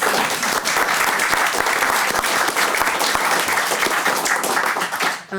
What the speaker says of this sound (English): we could give her a little applause